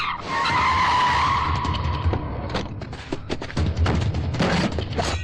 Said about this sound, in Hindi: महेश, गाड़ी निकाल